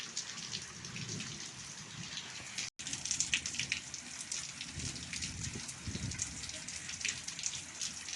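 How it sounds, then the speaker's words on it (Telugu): Steady rain patters on parked vehicles outdoors, a dense hiss of drops hitting metal surfaces with a low rumble beneath, continuous and moderately loud apart from one abrupt momentary cutout. "బండ్ల మీద బాగా తెలుస్తుంది వర్షం"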